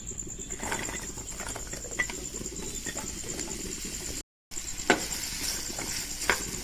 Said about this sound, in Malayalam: അതിലേക്ക് ഞാൻ വെണ്ടയ്ക്ക നന്നായി വഴറ്റിയെടുക്കുക.